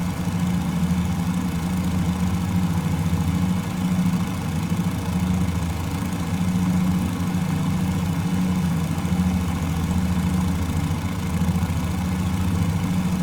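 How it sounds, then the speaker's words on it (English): Centre engine of a Fokker F VII trimotor in Microsoft Flight Simulator running up to 2000 RPM, a steady low droning throb with no voices. "We'll carry out a run up just on the centre engine."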